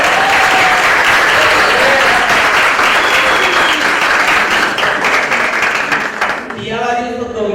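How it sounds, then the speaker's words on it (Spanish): An audience at a panel discussion on young journalism in television and social media applauds steadily and loudly for several seconds, then thins out as the clapping fades near the end. "a Juliana Sanabria, a Carol Fraile, aplausos para ellos por favor"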